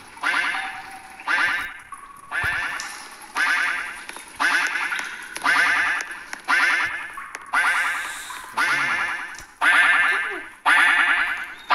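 A duck chasing players in the Roblox video game gives about a dozen loud, evenly spaced quacks in a steady repeating rhythm, each a bright nasal burst separated by short gaps.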